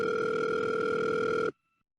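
Telephone dial tone at the start of a podcast phone call, a loud steady electronic hum that holds unbroken, then cuts off abruptly into near silence with a faint brief tone after.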